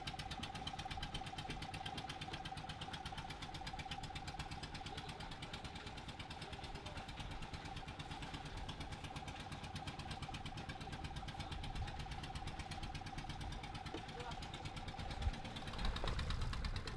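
An engine driving a compressor at a tin mine runs continuously with a steady, rattling mechanical drone and a faint constant whine, close and even throughout with no talk.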